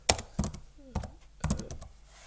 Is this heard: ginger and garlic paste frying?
no